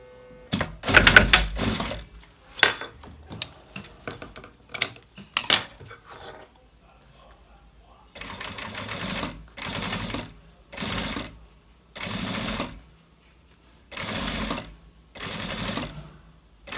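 A sewing machine stitches bias binding with a folded finish in a small atelier, running in short bursts of a second or so separated by brief pauses, with scattered clicks and handling noises early on.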